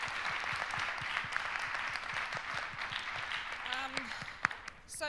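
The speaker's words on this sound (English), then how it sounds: "can we just have a massive round of applause for our panel here?" Audience applause for a panel at the close of a tech meetup, sustained clapping from a seated crowd that trails off, with a voice briefly heard near the end.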